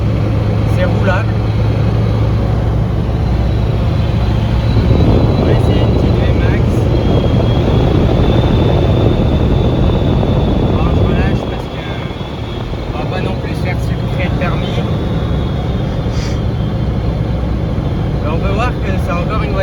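Peugeot 205 cruising in fifth gear at 130 km/h on a motorway, a loud, constant roar of engine, wind and road noise throughout, dipping briefly partway through, with no one speaking.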